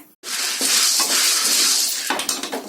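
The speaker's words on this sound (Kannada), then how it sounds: "ನೋಡಿ, ಕಾಳು ಚಟಪಟ ಅನ್ಬೇಕು" Coriander seeds dry roasting in a pan give off a dense, hissing crackle up close, with scattered sharper pops and a brief gap near the start.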